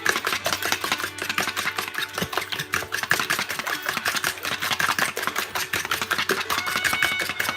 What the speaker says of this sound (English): I'm just going to whisk these up just like they is